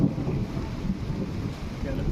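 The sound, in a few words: strong wind blowing outdoors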